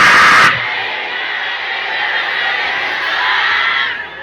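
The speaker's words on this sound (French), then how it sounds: "Levez bon les cris alléluia." A church congregation erupts in shouts of alleluia and cheering, a loud burst of crowd noise that drops off and then carries on as a sustained roar of many voices.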